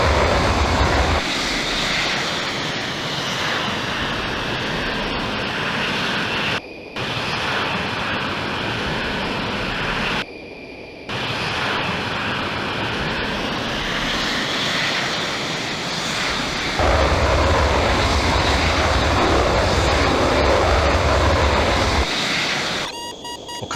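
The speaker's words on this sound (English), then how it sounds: "I can go even further and start the afterburner. You can hear the sound as well" Sustained jet engine roar with afterburner lit in the 1998 flight simulator Falcon 4, a loud steady broadband rumble with brief dropouts and a few cockpit beeps near the end.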